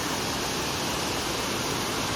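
A waterfall in Meghalaya gives a constant broadband rush of falling water, steady and fairly loud with no break.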